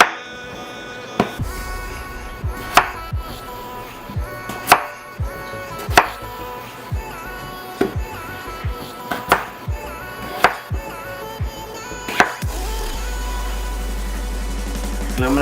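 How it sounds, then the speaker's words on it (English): A knife chops potatoes on a cutting board for a vegan noodle soup, giving sharp, evenly spaced single thwacks about once a second, close and distinct over faint background music. "Next, I'm going to chop my potatoes."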